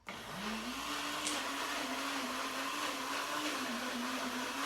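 A kitchen blender whirs steadily, mixing a healthy vegan cold pie filling, a continuous close motor drone with slight pitch wobble as the blades churn the thick mixture.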